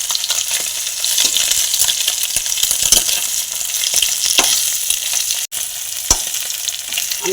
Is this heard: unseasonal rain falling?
no